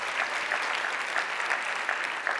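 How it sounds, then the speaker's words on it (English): Crowd applause at a pitch competition show, an even, continuous wash of many hands clapping throughout the short stretch, moderately loud with no talk over it. "Give yourselves a round of applause."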